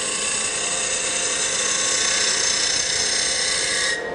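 A continuous high, rasping scrape of a woodturning gouge pushed in like a drill and swept sideways, hollowing a wooden box on a lathe, loud and steady, stopping abruptly near the end.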